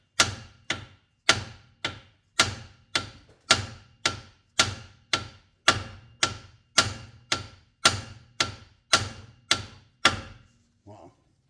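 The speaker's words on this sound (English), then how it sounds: "I'm going to just use this dead blow, and I'm going to hit the spindle right here until that pops down." A dead blow hammer strikes a car steering spindle about seventeen times in a steady, even rhythm, each blow a sharp, close thud with a quick decay, followed by a couple of faint clinks at the end.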